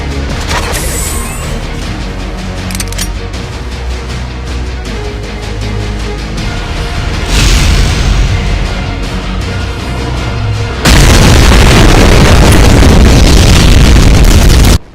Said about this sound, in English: And 2 ultimate legendary power bombs.